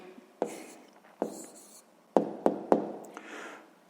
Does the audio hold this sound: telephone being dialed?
no